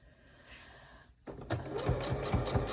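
Sewing machine stitching a barn star sampler quilt block, a steady rapid mechanical whir with rhythmic needle thumps after a brief quiet pause, close and fairly loud.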